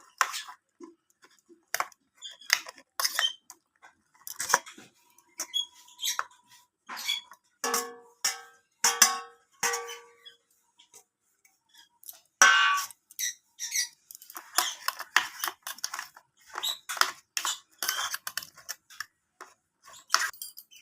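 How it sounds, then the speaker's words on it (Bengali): Spoon scraping and stirring cauliflower with spices in a pan for a steamed vegetarian dish, giving a long run of close, irregular clinks and taps with short pauses between strokes. "এইভাবে চামচের সাহায্যে ওলট পালট করে ভালোভাবে মিশিয়ে নেবো"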